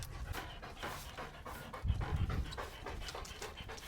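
A young, energetic dog pants quickly in a steady rhythm of short, soft breaths, fairly faint and close by, with no voices present.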